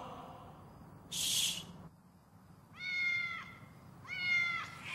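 Cats meow behind a restaurant kitchen in a cartoon scene, two rising and falling meows that are fairly quiet, with a brief hiss-like burst before them.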